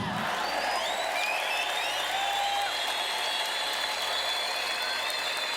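A congregation at a church service breaks into sustained applause mixed with high, trilling ululation, a dense continuous wall of clapping and cries throughout.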